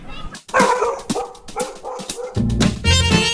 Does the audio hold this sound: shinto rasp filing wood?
no